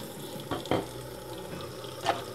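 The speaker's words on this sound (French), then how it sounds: "Il suffit de le rincer." Part of a Hurom juicer rinsed under a running kitchen tap, a steady close wash of water with a couple of brief splashes as the piece moves through the stream.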